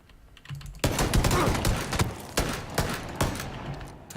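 Rapid bursts of automatic gunfire in the video game PlayerUnknown's Battlegrounds, several sharp volleys in quick succession with brief gaps, loud and close.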